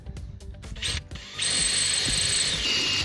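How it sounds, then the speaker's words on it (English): A few short clicks and rattles lead into a close, loud power drill whirring steadily as it bores holes into a custom mudflap. "I'll just drill a few holes in it."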